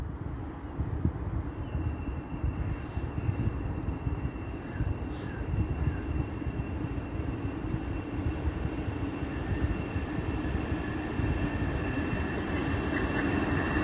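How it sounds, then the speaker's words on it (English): A Great Northern Class 379 electric multiple unit runs through a station platform without stopping, giving a steady loud rumble of wheels and rushing air throughout, with faint high squeals and tones riding above it. "The train on platform number 2, not stopping, we have a Great"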